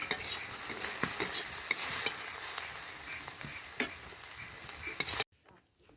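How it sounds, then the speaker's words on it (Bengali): Mushrooms sizzle in hot oil in a pan while a metal spatula scrapes and stirs with repeated clinks, a steady close frying hiss that cuts off sharply near the end. "এখন ভালোভাবে ভেজে নিতে হবে"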